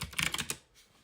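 A computer keyboard clatters with a quick burst of close, light keystrokes for about half a second before falling quiet.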